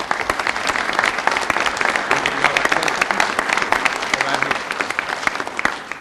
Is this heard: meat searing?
no